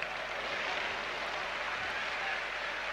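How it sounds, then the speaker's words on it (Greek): Warm applause from the stands at a 1983 Aris versus Panathinaikos basketball game, a steady dense wash of clapping holding evenly across the whole stretch with no voices. "Ένα ζεστό χειροκρότημα από την εξέδρα για να ενθαρρύνει τον παίκτη του Άρη"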